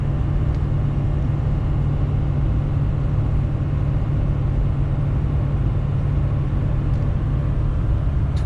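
A heavy truck engine labours up a steep hill in 9th gear, a loud, steady low drone that holds without a break throughout.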